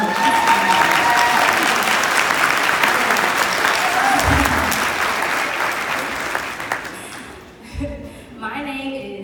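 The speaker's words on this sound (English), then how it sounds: "can we just all have a round of applause for being black and beautiful today?" A church audience gathered for Social Justice Sunday at St. Joseph AME Church gives a loud, full round of applause with some crowd noise, which gradually fades away toward the end as a few claps and voices trail off.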